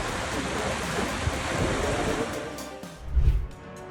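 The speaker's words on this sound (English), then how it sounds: "Heavy rainfall triggered flash floods in a town in Catalonia, sweeping away vehicles and causing chaos." Floodwater rushes through a town in Catalonia after heavy rainfall in a steady broadband roar. A heavier surge swells near the end, with no talk.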